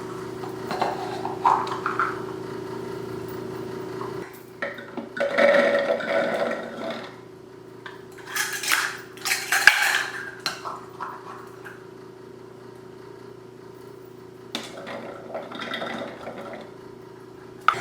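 Chickpeas tipped into a food processor bowl in a home kitchen, heard as several bursts of clattering, rattling and knocking against the plastic over a steady background hum, with quieter gaps between pours.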